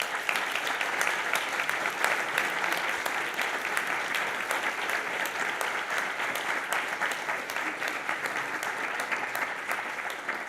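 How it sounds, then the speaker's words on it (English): Sustained, dense applause from a conference audience at a Humboldt lecture on Europe, steady and even from start to finish with no voices over it. "I'm very happy with this great applause"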